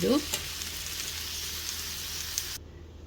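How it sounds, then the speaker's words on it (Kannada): A Tibetan-style potato stir-fry sizzles steadily in a pan with a brief spoon scrape at the start, a soft continuous frying hiss close by, ending abruptly, with no talking. "ಇದು ಸರಿಯಾಗಿ ಮಿಕ್ಸ್ ಆದರೆ ಆಯಿತು."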